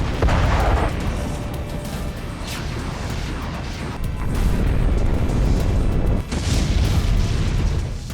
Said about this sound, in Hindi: रूसी फौज ने खार्किव में फिर से तोपखाना खोल दिया है।